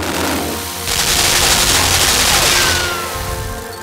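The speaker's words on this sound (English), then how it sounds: "I just want to show you guys the machine guns." Machine guns fire in the video game Limbo, a loud burst of rapid, dense gunfire that swells in partway through and rings on before fading, no voices over it.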